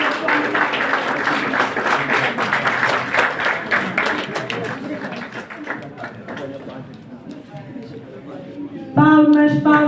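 Audience applause at a journalism diploma ceremony, a steady wash of clapping from the crowd that thins out toward the end, with talking over it and a voice coming in sharply at the close.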